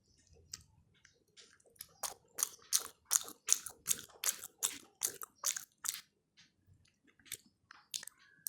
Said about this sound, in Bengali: শীতকালীন সবজি দিয়া লুডুস খাইতে আছে বুঝলেন